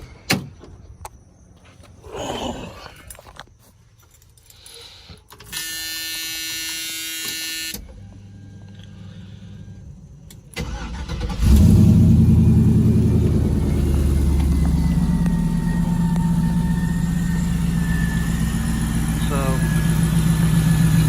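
An engine cranks and catches, then settles into a steady, loud idle that rumbles on for several seconds, with brief electric whirring before it starts.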